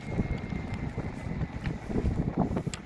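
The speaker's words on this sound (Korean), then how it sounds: "바람이 무척 많이 붑니다 아, 그래서 제가 좀 바람 소리를 맡겠습니다" Strong wind near Ulsan Bridge in Ulsan, South Korea, roars steadily across the microphone, a dense rushing buffet with gusty surges and no voices.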